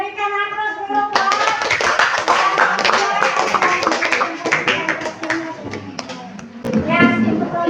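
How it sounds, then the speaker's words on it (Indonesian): Applause from a classroom audience for a group presentation, steady clapping for several seconds with voices and someone speaking underneath, after a moment of talk at the start. "berikan aplaus dulu, Pak"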